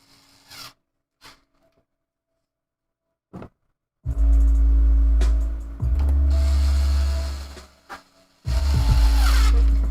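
A small power drill whirs in several short bursts after a few quiet taps, its motor straining and stopping between runs, close by.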